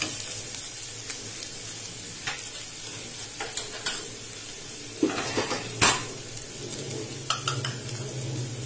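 Curry leaves and vegetables sautéing in a pan, a constant soft sizzle overlaid with scattered spatula scrapes and clinks against the pan, one sharper knock near the end; close and with no one speaking.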